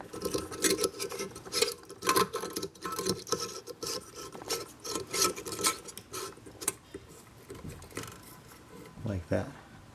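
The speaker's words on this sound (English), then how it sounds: "take this adapter and screw it into the socket" Close-up rasping and scraping of an LED light adapter being screwed into a ceiling light socket while fitting a Costco LED retrofit light kit, dense scratchy friction noises running throughout with a few knocks, no talk.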